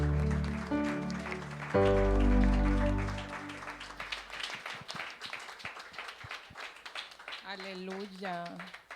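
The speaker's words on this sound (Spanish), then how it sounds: "te damos un fuerte aplauso" A church congregation claps through a burst of applause that follows sustained singing or music, the clapping dense and close before thinning out, with a voice speaking over the tail end.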